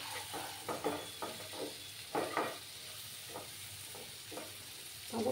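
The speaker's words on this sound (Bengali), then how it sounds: "ভালো করে আমি এটাকে কষিয়ে নেব।" Food sautéing in a pan makes a continuous nearby sizzle, punctuated by repeated scraping bursts as it is stirred, with no talk.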